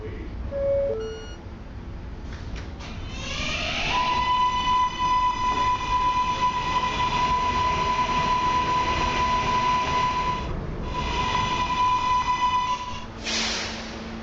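A video game train pulls away from its last stop, with a steady electric motor hum and a sustained horn-like tone that runs for about nine seconds over rumbling rail noise. A short chime sounds at the start.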